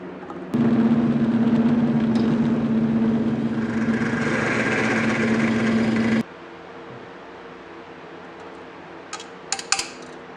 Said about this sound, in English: I'm going to try drilling a new hole up a little bit